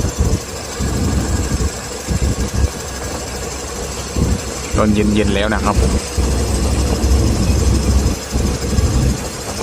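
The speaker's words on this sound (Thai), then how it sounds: "รถไฟธรรมดาขบวน 201 นะครับ กรุงเทพพิษณุโลกกำลังเดินทางออกจากสถานีรถไฟ พิจิตรนะฮะ" Ordinary passenger train No. 201, Bangkok to Phitsanulok, rumbles low and steady departing Phichit station with engine noise nearby while someone talks over it; a brief mechanical whine rises midway.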